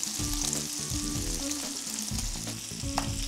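Large eggs frying in a pan give a steady, loud sizzle that runs unbroken throughout, with a few soft utensil scrapes and stirring sounds mixed in; no one talks.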